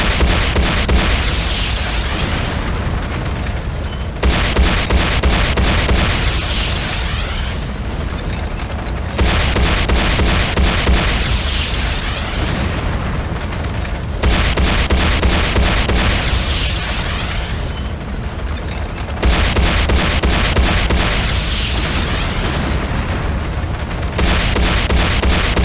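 Loud, continuous booming explosions and bursts pound a Tiberium Refinery under attack in the Renegade video game, surging in repeated waves of roughly five seconds each.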